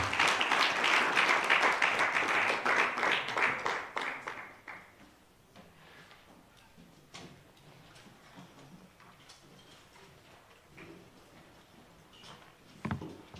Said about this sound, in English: May we give our speakers and Mr.